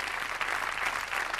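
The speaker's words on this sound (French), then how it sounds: "On vous applaudit pour ces disques d'or qui sont la consécration de votre succès" A studio audience applauds gold records awarded to a singer on a French television show, a dense, steady patter of many hands clapping at moderate distance.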